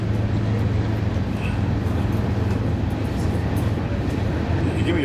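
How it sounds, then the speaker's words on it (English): A train rumbles past outdoors during a Corvette ZR1 seminar, a steady low, broadband roar holding at even loudness throughout with no clear talk over it. "Trains going by, Trump talking."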